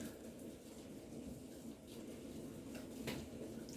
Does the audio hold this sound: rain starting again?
yes